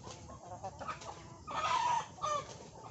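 Several native chickens cluck and murmur nearby, with a louder drawn-out squawk rising briefly in the middle, over a low background hum.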